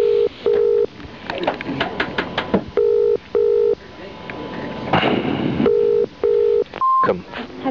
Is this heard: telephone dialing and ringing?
yes